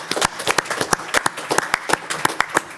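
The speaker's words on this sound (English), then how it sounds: "can we just give our Christian College colleagues a wee round of applause for their efforts?" A modest group of colleagues claps in a conference room at a monetary policy event. The hits come as loose, uneven individual claps, sparse and close rather than a full roar.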